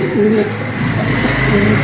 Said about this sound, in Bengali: আরেক জোড়া ড্যানিশ কবুতর, ইয়েলো কালারের ভিতরে